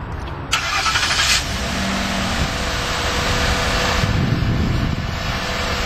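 A 2011 Ford F150 King Ranch pickup truck starts by remote, with a quick crank and catch followed by a steady, fairly close idle rumble and broadband engine noise.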